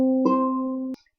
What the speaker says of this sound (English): when you play an octave, it sounds like this